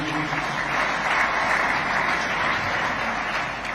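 Steady applause from a large audience at a Catholic men's organization gathering in Owerri, dense continuous clapping filling the room at an even level, with no talk over it.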